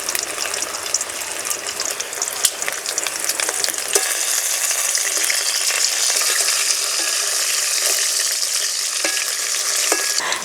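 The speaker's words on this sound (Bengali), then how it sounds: "উনুনের জাল কমিয়ে দিয়ে আস্তে আস্তে একটু সময় নিয়ে শোল মাছগুলোকে ভাজতে হবে।" Shol (snakehead) fish frying slowly in oil over a low flame, a steady dense sizzle with crackling pops throughout, close and loud.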